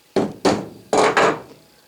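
Key being seated into the jaw of a Kurt machine vise: four loud, close, hard knocks, two spaced apart and then two in quick succession, each with a short ring-out.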